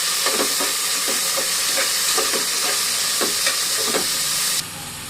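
Onions and tomatoes sauté in a pan with fennel, cinnamon and roasted gram for a hotel-style salna. A steady close sizzle carries repeated scraping stir strokes, then the sound drops away abruptly at the end.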